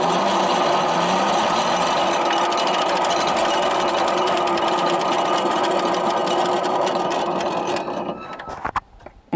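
A GRS three-position top-of-mast semaphore signal mechanism runs with a loud, continuous whirring motor drone, then winds down and stops with a few scattered clicks and clunks as it drops to red.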